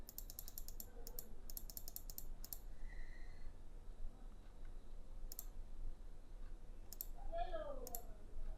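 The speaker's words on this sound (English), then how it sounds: "Now click for bold option." Mouse clicks while working in Microsoft Publisher, forming quick bursts of sharp clicks near the start, then sparse single clicks against a quiet room background.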